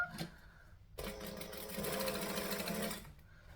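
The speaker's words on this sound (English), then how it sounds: "we're going to stitch the little boxed corner here" Sewing machine running a line of stitches across the boxed corner of a fabric bag, starting after a brief pause and whirring steadily at close range for about two seconds before stopping.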